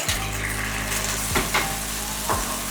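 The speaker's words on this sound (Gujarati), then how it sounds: "અડધી મિનિટ સુધી આપણે એને પકાવતા રહીએ સોયા સોસને" Soy sauce sizzles and fries steadily in a very hot kadai over a lowered gas flame while brinjal Manchurian cooks, a dense continuous hiss broken by a few brief stirring scrapes, with no talking.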